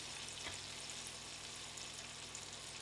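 Butter and olive oil melting in a hot pan, a faint steady hiss of sizzling frying fat, soft and continuous, no talking.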